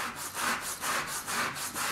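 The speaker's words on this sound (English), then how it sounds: "washed this orange and we're going to zest it. This is a zester. It's also called a microplane." An orange rubbed against a microplane zester in a kitchen gives three rhythmic, close, rasping grating strokes, each a short scratchy sweep with brief pauses between, alone without talk.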